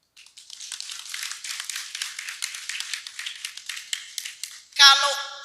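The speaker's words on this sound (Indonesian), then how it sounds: "tepuk tangan untuk kebersamaan" Applause from a crowd at a Nahdlatul Ulama anniversary gathering, a dense patter of many hands clapping steadily for about five seconds, ending in a brief burst of feedback or a tone.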